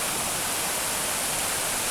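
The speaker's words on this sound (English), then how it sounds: "the river runs under a bridge under the main road" A river rushes beneath a road bridge on a main road, a steady, dense hiss of flowing water that stays loud and unbroken throughout with no other sounds.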